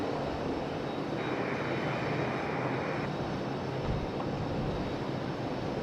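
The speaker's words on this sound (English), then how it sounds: "Here goes our special JetBlue." A JetBlue airliner departs Raleigh-Durham International with a steady, loud jet engine roar that holds throughout, with no voices over it.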